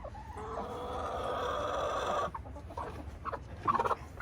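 A broody hen clucking and grumbling close by, a run of low throaty notes followed by sharper scattered clucks, no talking.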